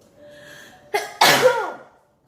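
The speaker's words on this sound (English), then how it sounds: "I need to sneeze." A single sharp human sneeze bursting out loud and close after a quiet hum, with a brief breathy intake just before it.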